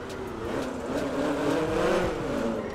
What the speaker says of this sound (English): that car is mad loud. That's that Ferrari, bro. Yep. That's that 458, bro.